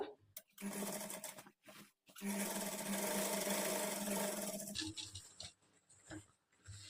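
A sewing machine top-stitches the border of a kids' lehanga in a long continuous run, followed by stop-start handling and shorter bursts; the recording is quiet overall.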